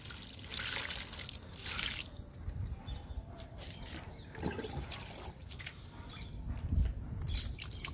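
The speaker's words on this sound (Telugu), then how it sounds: "విత్తనాలు నాటుకున్నప్పుడు చల్లాలి వాటర్ని." Water is sprinkled by hand onto freshly sown okra seeds in a garden tub, giving a soft, uneven patter and trickle up close, with faint birdsong in the background.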